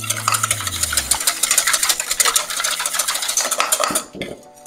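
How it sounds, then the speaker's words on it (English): Eggs are stirred in a bowl for a steamed chocolate cake, a fast, steady scraping and clinking of a utensil against the bowl that carries on loudly, then slows and fades near the end. "we will only stir the egg until it is a light yellow in color or pale yellow in color"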